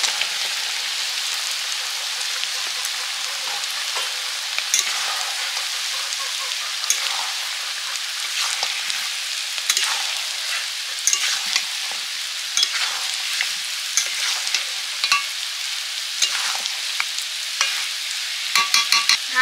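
Chicken and potatoes frying in spiced oil, stirred steadily: a dense, continuous sizzle with scattered crackles and scraping strokes throughout, loud and close, with no voices.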